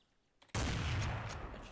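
Automatic gunfire in Garry's Mod erupts abruptly and holds as one loud, sustained burst of rapid shots after a quiet lead-in.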